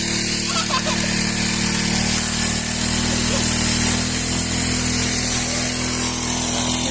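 A motorized sprayer fitted with a modified spray nozzle runs continuously at close range, a loud, steady engine buzz with a hissing spray layered over it.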